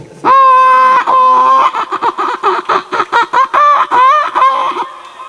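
A comedian's voice loudly imitates an egg-laying hen's clucking, with a long rising squawk followed by a rapid, choppy run of cackling bursts, close and alone.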